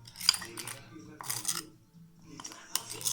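Homemade slime with contact lens solution is stirred in a container, giving a few bright clinks and scrapes of a utensil against the sides in short separated bursts, close and fairly quiet.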